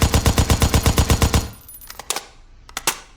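A SCAR-H rifle fired from an unsupported standing position lets off a rapid string of about thirteen loud, evenly spaced shots, followed by a quiet gap and a few sharp, scattered metallic clicks and bangs.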